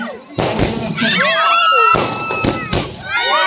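Firecrackers burst at a village birthday celebration for a sarpanch, sharp pops and crackling thuds repeating in quick clusters, with whistling trails and a crowd's voices mixed in nearby.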